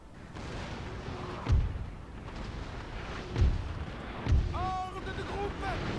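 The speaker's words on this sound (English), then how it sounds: "Cannons are doing a lot of work" Three deep cannon booms fire at uneven intervals over a busy, rumbling battle ambience in the video game Napoleon: Total War, with faint tonal calls drifting in near the end.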